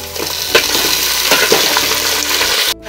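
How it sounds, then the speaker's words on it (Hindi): Chicken sizzles and crackles in hot oil with browned onions and whole garam masala, a steady close frying hiss broken by a few stirring scrapes, with no voices. "चिकन को भून देंगे थोड़ा"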